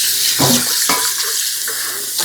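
A cooking pot being rinsed out under a running kitchen tap while making a hunter's stew, water splashing steadily and close for a couple of seconds with brief surges.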